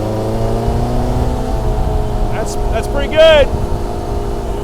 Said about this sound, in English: Race car. It's open wheeled and has fuel pump noises. Indy car.